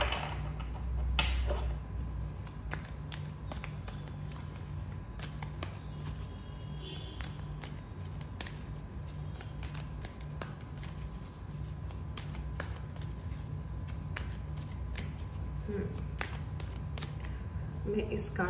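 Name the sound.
shuffling an energy oracle card deck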